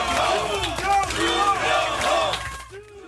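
People Power Party lawmakers gathered outside the Seoul detention center cheer in the early morning, a crowd of raised voices shouting in rising and falling bursts that rolls on steadily before dropping off near the end.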